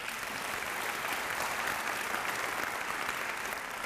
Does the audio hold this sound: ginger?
no